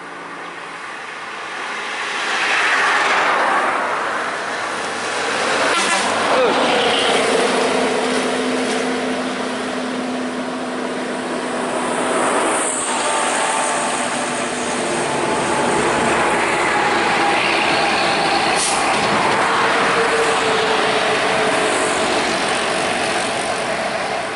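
A heavy vehicle rumbles past nearby with a long droning engine and whining tones, swelling and fading over about twenty seconds.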